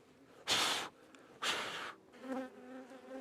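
Honeybees from a small colony nesting in a bird box buzz in two loud, close bursts, each about half a second long, followed by a quieter, droning hum.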